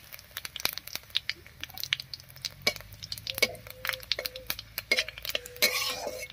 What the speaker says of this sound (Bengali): ফোড়নটা একটু ভাজা হয়ে গেছে,